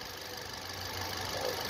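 A rebuilt Hyundai Grand i10 1.2 Kappa VTVT petrol engine idles with a steady, fairly quiet hum and faint mechanical ticking, running smoothly and alone throughout.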